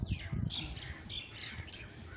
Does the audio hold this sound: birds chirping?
yes